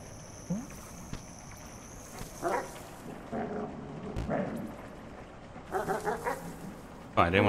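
A pixel-art dog in the video game Animal Well barks and whimpers in short bursts, scattered over several seconds amid game sounds, with a person talking quietly over it.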